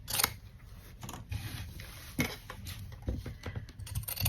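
Scissors snipping through coarse, fray-prone hessian fabric during a craft project, a close series of quick crisp cuts with soft rustling of the cloth between them.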